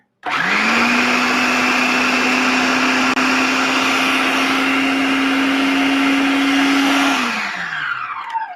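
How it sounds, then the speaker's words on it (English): A brand-new food processor runs a dry mix, a loud, steady motor whine that holds for about seven seconds and then winds down as the motor slows, with no talking. "Except for when you have a brand new food processor and everything's really stiff."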